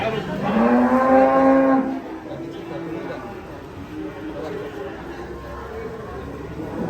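Cattle being unloaded from a truck give one loud drawn-out moo up close, followed by quieter murmuring and the low bustle of people chatting nearby.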